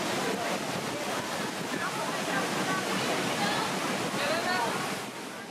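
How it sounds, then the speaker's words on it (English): Niagara Falls thunders as water cascades in front of open cave entrances, a steady, dense roar of falling water that stays loud and unbroken throughout, with faint voices blending into the wash. "view water cascading in front of open cave entrances"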